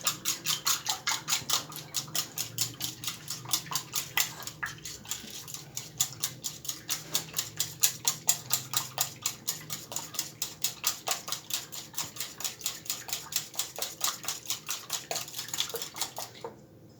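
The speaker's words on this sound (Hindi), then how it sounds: "सबसे पहले हमने 2 अंडे लिए हैं, इनको मैं अच्छी तरह फेंट लूँगा" Two eggs being whisked in a bowl, a fast, even rhythm of light clicking strokes against the bowl, repeating for a long stretch with a soft background hum.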